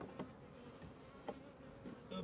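Bees buzzing close by during beekeeping work, a low steady drone with brief louder passes of single insects flying near, continuous and faint, with no talking.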